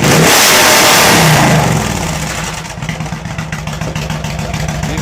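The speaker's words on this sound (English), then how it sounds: "Let me mash that motor a little bit. I always like to hear these cotton picking bikes." Motorcycle engine being revved hard. A loud, roaring rev opens, then the sound settles into a lower, steady, throbbing run with a pulsing beat.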